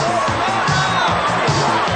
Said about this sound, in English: As the crowd is worked into a frenzy